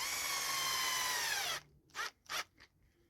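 A power drill driving a screw into a steel drum stand whirs steadily for over a second and then stops, followed by two or three short bursts of the motor.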